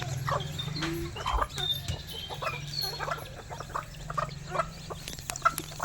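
Chickens and a rooster cluck and call around a farm where areca saplings are being planted, with scattered overlapping clucks at moderate distance over a steady low background hum throughout.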